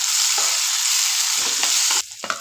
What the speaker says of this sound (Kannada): ಬ್ಯಾಳಿ ಫ್ರೈ ಆಗ್ಯಾವು ಅದ್ರ ಜೊತೆಗೆ ಈರುಳ್ಳಿ ಮಿಕ್ಸ್ ಮಾಡ್ಕೊಂಡು ಫ್ರೈ ಮಾಡ್ಕೋಬೇಕು